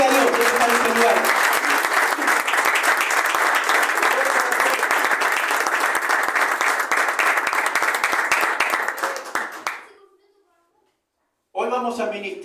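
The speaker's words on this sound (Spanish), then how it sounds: "Den un aplauso" A church congregation claps steadily and loudly for about ten seconds, the applause stopping abruptly before a brief silence, after which the sound of the room returns.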